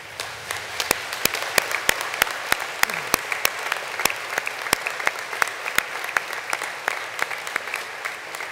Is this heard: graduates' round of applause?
yes